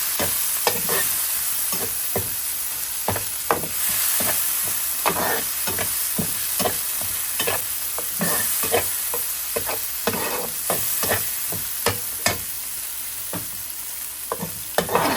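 Turmeric, chili, cumin and coriander powders with salt fry in a pan for a fish curry, a loud steady sizzle broken by repeated sharp scrapes of stirring, close up with no talking.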